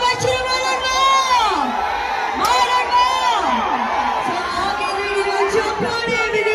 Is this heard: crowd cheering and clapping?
yes